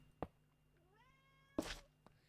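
A house cat meows twice close by indoors, a short chirp followed by a longer rising meow, clear and fairly quiet against a soft background hum.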